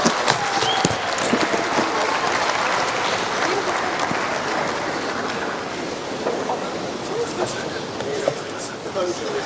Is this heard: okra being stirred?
no